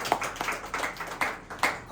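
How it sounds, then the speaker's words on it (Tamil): Congregation clapping hands in a church service, a loose series of sharp claps in rough rhythm, moderately close, with a roomy reverberant background. "கைத்தட்டி ஆண்டவரை மகிமைப்படுத்துங்கள்."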